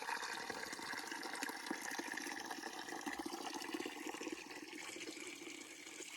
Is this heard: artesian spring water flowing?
yes